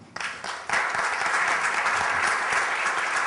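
An audience breaks into applause for architect Claudia Harari at a talk on city design, dense clapping starting in two quick swells and then holding loud and steady without speech.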